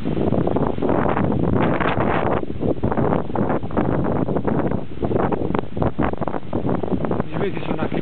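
Steady wind through fir trees roars and gusts throughout, with a rustling, blustery texture that stays loud and close, like wind hitting the microphone.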